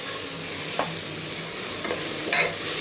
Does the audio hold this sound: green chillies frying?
yes